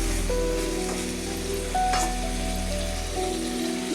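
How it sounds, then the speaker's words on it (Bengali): Pumpkin curry sizzling and frying steadily in a pan as it is stirred, a soft continuous crackle with faint tonal hum in the background, with no voices over it. "একটু নেড়ে দিচ্ছি নেড়ে দিয়ে ঢেকে দেবো"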